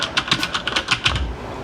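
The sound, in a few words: typing on a loud gaming keyboard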